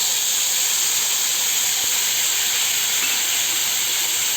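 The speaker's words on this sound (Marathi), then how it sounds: "आता आपण या कढईमध्ये थोडंसं तेल घातलं आहे आणि आपण केलेलं वाटण या तेलामध्ये घालून घेऊया" Loud, steady sizzling hiss of spice paste frying in hot oil, continuous and close with no pauses or voices.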